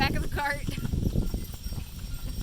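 Hooves of the mare Deseo clop at a walk on a trail drive while she pulls a cart, with steady footfalls under people talking nearby.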